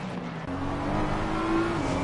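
On-board engine of the Peregrine Racing car, number 103, lapping Donington Park in a Race Club UK round: a loud, steady close-up engine drone with pitch climbing through the gears, no talk.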